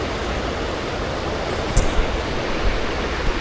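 Logawa River running beneath an old iron bridge, a steady broadband rush of flowing water close by, with a few faint bumps and no talking.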